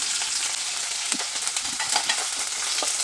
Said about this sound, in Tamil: இது வந்து கொத்தவரங்காய் தாளிப்பு ஃப்ரெண்ட்ஸ் வெங்காயம்